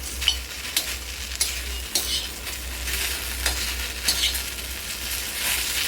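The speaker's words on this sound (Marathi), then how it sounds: "हे अशी मस्तपैकी भेंडी भाजून घ्यायची तव्यामध्ये" Okra (bhindi) dry-roasting and being stirred on a tawa for a spicy red-masala bhaji, with steady close sizzling broken by regular scraping stir strokes throughout, no voices.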